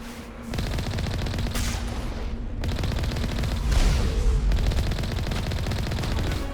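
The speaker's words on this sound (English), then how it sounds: "magnetic accelerator cannons do make short work of pirates" Magnetic accelerator cannon fire in the Mass Effect video game, sustained rapid bursts of loud gunfire rattling steadily for several seconds with brief breaks between volleys, no talk.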